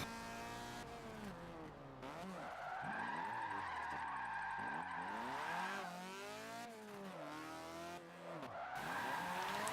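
A car drifting around the Spa circuit in Forza Motorsport 7, with long sustained tire squeals that rise and fall over a revving engine, continuous and close.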